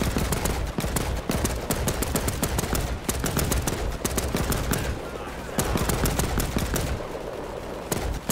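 Rapid bursts of machine gun fire in the World War II game Land of War, set during the German invasion of Poland in 1939, loud and close with rattling volleys and a few brief pauses, and no talking over it.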